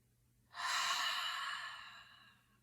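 One long, deep breath out through the mouth, soft and close, swelling quickly and then fading over about two seconds in an otherwise quiet room.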